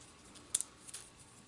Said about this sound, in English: So I'm cutting back the paper here.